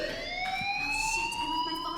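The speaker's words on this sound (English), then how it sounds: "Do you hear that fire alarm?" A school fire alarm rings in the Life is Strange video game, a steady, continuous electronic tone that slowly rises in pitch and holds at an even, fairly loud level for the whole stretch, with no talking over it.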